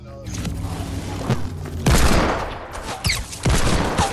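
Explosions and bursts of gunfire in the video game Fortnite sound loud and close, with a big boom midway followed by further blasts, while players talk excitedly over the action.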